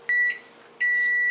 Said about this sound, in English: put it into a microwave safe container and microwave it for about a minute